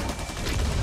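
Gunfire in the Back 4 Blood video game, a brief, loud, dense burst of rapid shots with heavy low rumble, close and unbroken by talk.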